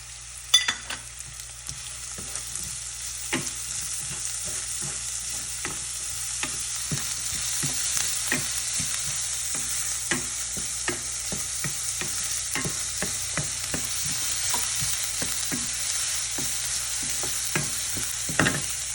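Finely chopped small onion sautés over low heat with garlic and green chillies in a pan, a soft continuous sizzle under repeated light scrapes of a spoon stirring, close and even throughout without speech.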